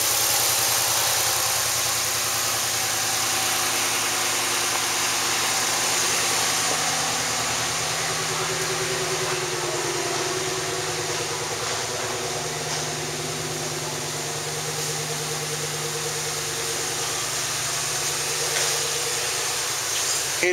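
A Dodge 1500 pickup's 4.7 automatic engine idles low and even throughout, a constant mechanical hum with faint vibration and no speech.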